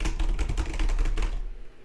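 Rapid typing on a computer keyboard, a dense run of close, clicky keystrokes that carries on steadily and then thins out toward the end.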